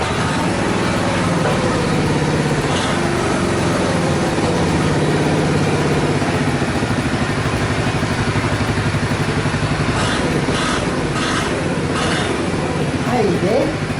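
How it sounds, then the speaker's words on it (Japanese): A restored Honda Super Cub motorcycle engine runs at a steady, close idle with an even low throb that holds for the whole stretch. "もう一回エンジンかけてねヘッドライトとか確認していきます。"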